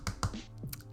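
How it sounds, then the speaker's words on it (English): A metal tool taps cured Saviland acrylic dip powder on fingernails, giving three or four sharp, light clicks close by with short gaps between them and a quiet hum underneath. "I started tapping it with the metal tool to make sure that they make the clinking noise that, you know, acrylic makes when it's dry"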